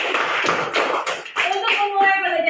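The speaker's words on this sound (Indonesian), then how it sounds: "Beri tepuk tangan Nuri" Classroom pupils clap their hands for a returning classmate, a ragged burst of claps and taps mixed with children's voices, fairly close and lively before settling as talk continues.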